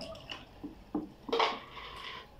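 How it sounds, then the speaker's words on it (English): Homemade fabric softener with fabric colour is stirred in a container, giving faint, close clinks and a brief wet scrape with quiet pauses between. "So you mix it up so well."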